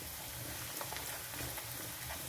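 Onion, chopped ginger and garlic sautéing in a pan, a faint continuous sizzle with light stirring noises, quiet and steady throughout the short stretch.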